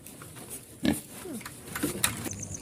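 Pigs grunt and snort in short, uneven bursts at a farm feeding area, fairly close, against a busy outdoor background.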